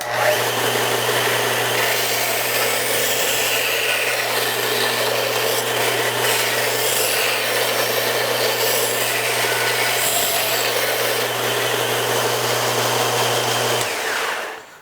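A small household disc and belt sander shapes a round wooden piece braced on a flat table, a loud continuous motor whine with abrasive rubbing that runs steadily for about fourteen seconds before spinning down.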